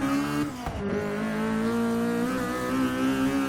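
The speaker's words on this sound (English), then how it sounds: "Oh, I love when that turbo kicks in" A 2014 Honda Civic Si with a turbocharged engine in the Forza 6 racing game holds a steady, close engine drone with rising pitch as it revs under load.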